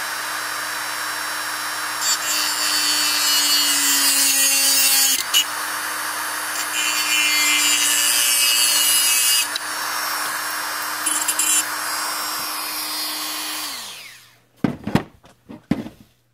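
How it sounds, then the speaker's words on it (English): A cutoff tool whines steadily at close range as it cuts into a 300 AAC Blackout case clamped in a vise, grinding on for about fourteen seconds before spinning down, followed by a few sharp knocks. "I'm using the old cutoff tool."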